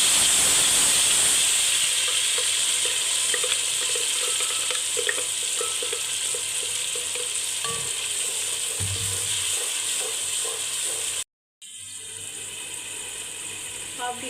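Ground onion paste fries in hot oil with ginger-garlic paste for a beef kofta curry, giving a steady, close, broadband sizzle that drops out briefly near the end before resuming.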